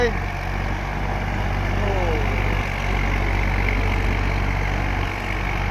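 Tractor engine running steadily while plowing a rice field, a continuous low rumbling drone that stays loud and even throughout, with faint voices in the background.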